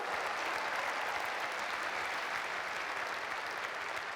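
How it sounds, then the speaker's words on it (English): Steady applause from a large arena audience at a business event in Rotterdam, a continuous even roar of clapping heard from a distance. "Let's give the 4 co-founders a big round of applause"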